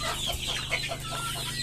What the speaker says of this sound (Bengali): দেখতেই পারতেছেন মুরগিগুলো।